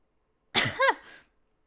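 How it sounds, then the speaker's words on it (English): A short, dry cough from a video game character choking on basement dust, two quick close hacks followed by a softer throat-clearing rasp, heard alone against silence. "Shouting as loudly as I could caused me to inhale a cloud of dust, sending me into a fit of dry coughs."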